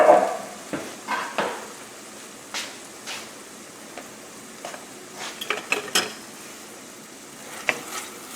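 Risotto with shallot and saffron cooking in a pan, a steady low sizzle under repeated scraping stirs and occasional light clinks of utensil against the pan, close by with no talking.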